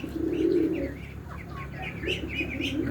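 Domestic pigeons cooing in soft repeated phrases, close by, with light chirps and a brief flutter of wings in the background.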